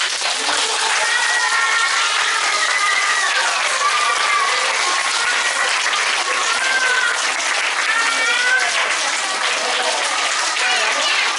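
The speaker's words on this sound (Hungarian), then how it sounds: "Tapsoljuk meg még egyszer nagyon őket" Sustained applause from an audience for kindergarten children at a preschool event, a dense steady clapping that fills the whole stretch at even loudness with faint voices mixed in.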